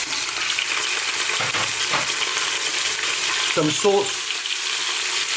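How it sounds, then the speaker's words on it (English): Meat bones frying with chunky curry leaves and onion for a bone broth, giving a steady broadband sizzle throughout, with occasional stirring scrapes and a brief spoken remark near the end. "And I'm just going to fry this around for about just 3 to 4 minutes."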